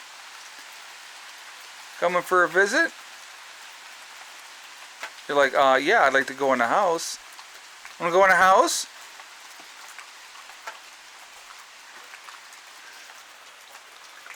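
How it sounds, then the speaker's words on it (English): Steady rain patters in the background throughout at a homestead, with a person talking in short bursts over it. "very rainy day here at the homestead"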